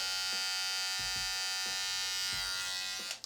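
Brio Axis beard trimmer fitted with a T-blade running close up, a steady high-pitched electric buzz with a few faint clicks, ending abruptly as it is switched off.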